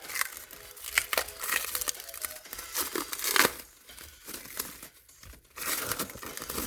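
A package of sports cards wrapped in protective cardboard is unwrapped up close, with continuous crinkling and tearing of paper and plastic in irregular bursts and no talking.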